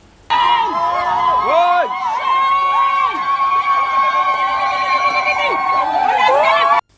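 A huge, overexcited crowd makes steady, dense noise, with loud shouting voices rising and falling throughout and no clear breaks until the very end.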